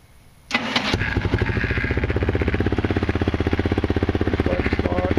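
A custom ATV with powder-coated shell and button start cranks and fires up, then settles into a loud, steady, rapidly pulsing idle close to the microphone.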